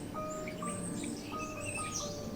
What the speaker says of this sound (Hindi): सुनने लगी चिड़ियाओं के चहचहाने को